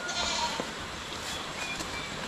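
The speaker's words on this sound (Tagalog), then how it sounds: "ibigay namin sa aming mga alagang kambing" Goats kept as pets bleat in a couple of short, fairly faint calls over a steady background hiss.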